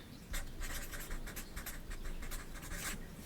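Pen scratching across paper in quick bursts of short, close strokes, moderately quiet, with no talking.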